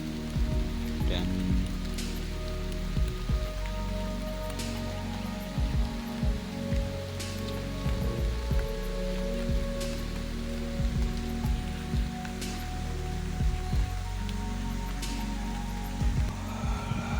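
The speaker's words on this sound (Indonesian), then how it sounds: "Karena kondisi hujan nih teman-teman, tadi berangkat terang padahal, tapi begitu nyampe spot hujan." Rain falls steadily at a fishing spot, a constant wash of patter broken by sharper drops and taps, fairly loud throughout with no talking.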